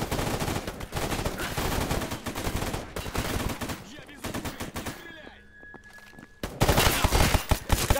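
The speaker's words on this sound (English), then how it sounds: "My gun's like stuck on burst mode." Gunfire in a video game raid on the Chernobyl nuclear power plant, from a gun stuck on burst mode: dense, loud volleys of rapid shots that thin briefly mid-way and then surge back in a heavy barrage.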